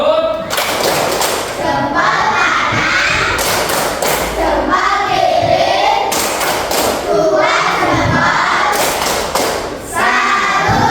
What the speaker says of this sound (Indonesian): Pak Guru pengen kalian coba tepuk lagi.